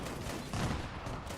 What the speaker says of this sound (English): That constant exploding is annoying.